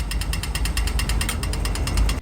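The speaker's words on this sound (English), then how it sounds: "When you can cross, it becomes the little green man, and the buzzer sounds like this." An Australian pedestrian crossing signal buzzer ticks in rapid, even pulses, roughly ten per second, loud and steady over a low rumble of traffic, sounding during the green walk phase.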